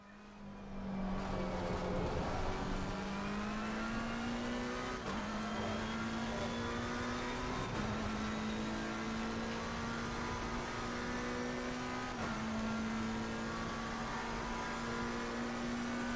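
A race car engine drones steadily at Paul Ricard in a racing video game, its pitch climbing and then dropping at each of several gear shifts, loud and continuous with no talking.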